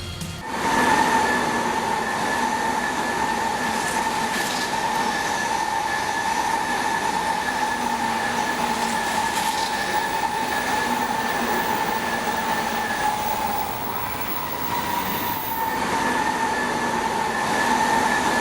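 A train in Japan runs along the track with a continuous rolling rumble, sustained tonal motor whine and faint rail squeals, steady and fairly loud throughout with a brief dip near the end and no voices.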